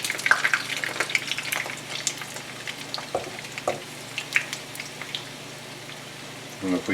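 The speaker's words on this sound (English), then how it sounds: "You fry those pieces, tonkatsu." Tonkatsu pork cutlets fry in hot oil with a steady crackling sizzle and scattered sharp pops, close and fairly loud throughout.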